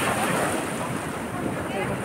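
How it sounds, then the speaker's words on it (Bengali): Sea waves break steadily on the beach near Sankarpur, a dense continuous wash of surf heard up close, mixed with gusty wind buffeting the microphone and no clear speech. "আছড়ে আছড়ে পড়ছে ঢেউগুলো"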